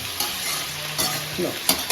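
A tadka tempering for potato rice sizzles loudly in a pan, with a continuous hiss broken by a few quick stirring scrapes over its short length.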